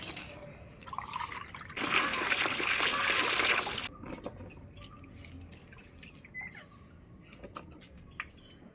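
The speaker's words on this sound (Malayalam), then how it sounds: "അതും കൂടെ ഇതിനകത്ത് നല്ലോണം കഴുകി നമുക്ക് ഇടാം." Chopped yam being washed by hand in a vessel of water gives a loud burst of splashing and trickling for about two seconds, followed by softer dripping and light clinks in a quiet kitchen.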